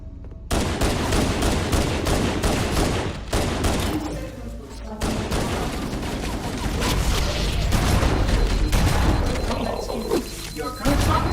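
Rapid gunfire bursts and heavy booms of a grenade blast from Halo Anniversary combat in the Library mission, loud and dense throughout with brief pauses, plus faint voices mixed in.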